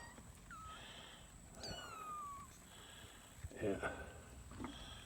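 Young kittens meow in short, thin, rising cries near a spot where their mother comes and goes, a few separate calls over faint background hiss, with soft human voice sounds between them.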